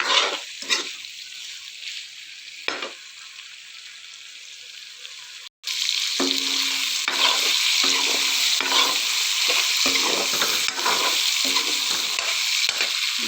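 Meat and potatoes fry in a pan, with quieter intermittent stirring sizzles at first, then a sudden jump to a loud, continuous hissing sizzle for the remainder, close and without speech.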